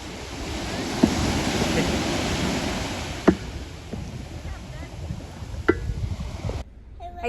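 Sea waves at a beach give a steady loud wash of surf mixed with wind buffeting the microphone, broken by a few sharp knocks and ending abruptly.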